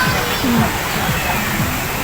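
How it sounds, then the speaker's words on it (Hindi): Aerator boats churn and splash pond water at Lahore Zoo, a continuous rushing wash heard close by with voices talking over it. "इन पे ना एरिएशन करते हैं, पानी को ना स्प्लैश करते हैं ताकि उसमें ऑक्सीजन शामिल हो"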